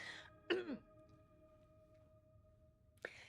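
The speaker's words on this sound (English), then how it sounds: "The Pale Man produces a sound close to a cough." A single short cough or throat-clearing grunt from the Pale Man in the video game Esoteric Ebb, fairly close, over a quiet humming background, followed by a brief breathy burst near the end.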